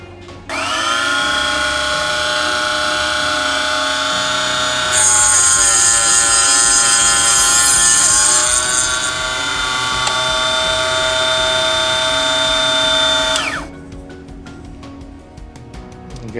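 A MicroLux mini miter cut-off saw spins up and cuts through tubing on a workbench, giving a loud, steady high-pitched whine that rises in intensity mid-cut and stops abruptly near the end.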